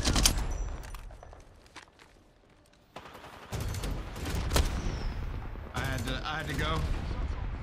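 Gunfire and explosions in the Apex Legends battle royale game, bursts of weapon fire and impacts that come and go, loud and close, with a quiet lull near the middle and busy combat sounds resuming after it.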